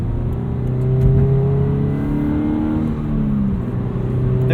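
A 2017 Toyota 86 engine revs steadily under acceleration, heard from inside the cabin. Its harmonic tone climbs and holds strong, close and continuous, with no voices over it.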